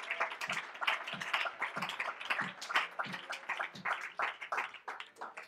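A church congregation claps hands in praise, steady rhythmic clapping close and continuous with overlapping claps throughout, no speech on top.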